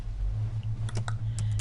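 A folder path typed on a computer keyboard, heard as a short run of several quick, light key clicks over a steady low hum.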